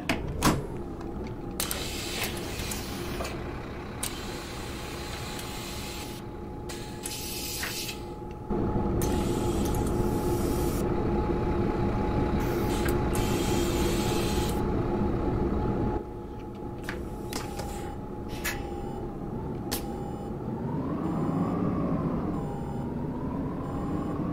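A video game bus engine drones steadily as it accelerates on its own, its pitch rising and holding, with faint beeps and mechanical whine over a continuous low rumble.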